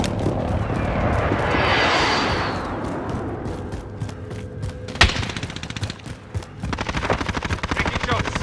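Bursts of automatic gunfire and sharp shots crackle in a Call of Duty Black Ops match, mixed with a rushing whoosh and explosive thuds, dense and loud over a busy game soundscape.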